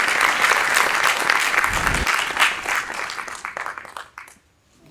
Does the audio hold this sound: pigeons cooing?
no